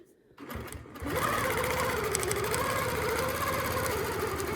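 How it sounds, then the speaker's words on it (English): A sewing machine quilting with a Westalee hearts template starts up after a brief pause and then runs in a loud, steady, rapid stitching hum that continues to the end. "Okay, so let's sew the next one."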